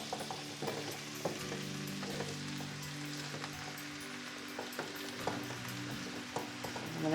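Chorizo and potatoes sizzle steadily in a pan for Spanish patatas riojanas, a soft continuous frying crackle with occasional clinks and scrapes of stirring, no voices.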